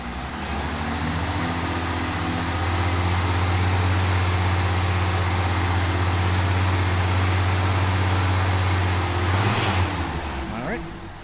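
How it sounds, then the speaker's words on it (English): A 1982 Toyota Pickup SR5 4x4 engine with a misfire rises from a rough idle to a held rev with a deep, uneven drone, then drops back, close and loud, with a brief sharp clatter near the end. "let's see if I can get the accelerator here and rev it up a little bit"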